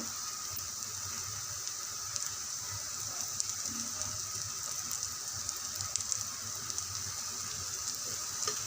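Sabudana dhapata sizzles steadily in a hot pan after oil is added around its edges, an even, continuous frying crackle with small pops throughout.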